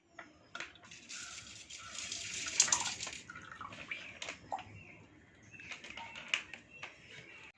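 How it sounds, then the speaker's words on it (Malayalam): Water pours and splashes steadily into a fishbowl for a few seconds, then trickles and drips more quietly. "ഇനി ഇതിനകത്തുള്ള വെള്ളം കൂടി ഒഴിക്കാം"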